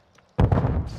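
A single grenade blast in Call of Duty: Modern Warfare 3 bursts suddenly after a near-silent moment, a loud, close boom with a rumbling tail.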